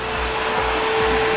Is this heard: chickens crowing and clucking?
no